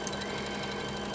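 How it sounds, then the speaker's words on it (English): A sewing machine runs steadily, stitching the side seam of a long skirt, its continuous motor whir and rapid needle chatter holding close and even throughout the short stretch with no one speaking. "with this video, I decided just to use the sewing machine"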